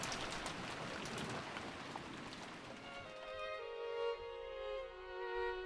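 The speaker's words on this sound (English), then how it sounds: "Though the rain was still pouring down, there was hardly any wind at all." Steady pouring rain hisses evenly through the first half of a scene in the visual novel game Umineko, then gives way to a soft sustained musical tone as the rain fades out.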